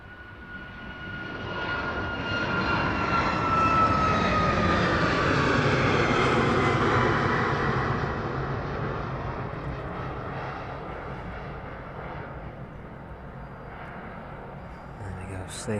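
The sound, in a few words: jet airliner departing East Midlands Airport runway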